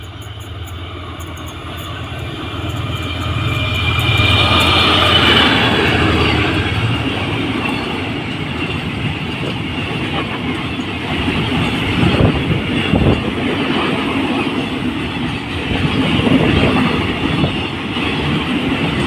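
GE GEA diesel locomotive passing on a Thai railway line with a steady engine rumble and loud rolling wheel and rail noise, rising as it comes near and staying close and continuous, with faint squeals and clatter.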